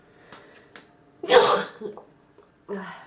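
A woman lets out one loud, sharp sneeze midway, set between faint breathy vocal sounds and short noises before and after.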